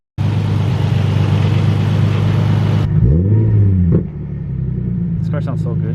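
A tuned Nissan 350z engine roars loudly and close for about three seconds, then drops back to a rumbling idle with a brief blip.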